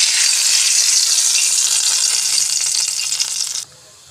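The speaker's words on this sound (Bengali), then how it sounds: "রসুনটা হালকা ভাজা হয়ে গেছে" Chopped garlic fries in hot oil in a wok, a loud, close, steady sizzle that cuts off abruptly near the end, leaving a faint background hiss.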